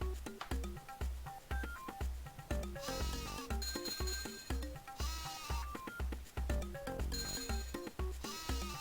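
Sheep bleating and jingling game music from the sheep balancing minigame in Tak 3 on Nintendo DS, bright repeated electronic tones in a bouncy rhythm with bleat-like sounds, continuous and fairly faint.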